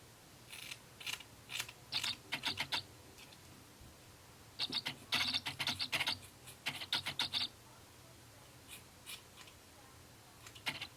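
Scissors snip bluntly through excess hair on a lace closure wig, sounding as close, crisp clusters of rapid cuts in several bursts with short pauses between, quiet and without talk.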